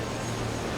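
An enemy plane engine in the War Thunder video game drones as a steady, dense broadband roar, constant and fairly loud throughout the brief moment.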